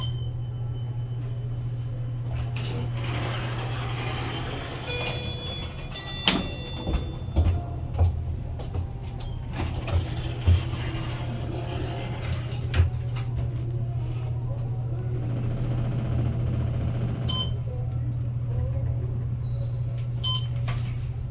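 A 1971 Westinghouse Selectomatic elevator at Tampa International Airport carries riders, a steady low motor hum running throughout with scattered clunks and door thuds midway, no speech over the ride.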